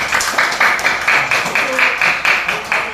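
A classroom group claps together in a brisk, even rhythm of about a dozen sharp, close claps, steady throughout with no speech over it.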